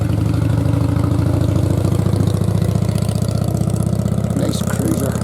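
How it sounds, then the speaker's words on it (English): A cruiser motorbike's engine idles close by on a private island roadway, a steady low rumble with a rapid even pulse that stays constant throughout. "And I hear motorbikes."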